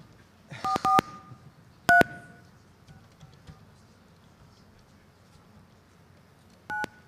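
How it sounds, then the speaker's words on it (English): Touch-tone telephone keypad being dialed, a quick cluster of three or four dual-tone beeps, then a single beep about a second later and one more near the end, each crisp and close against a quiet background. "I'll dial the phone."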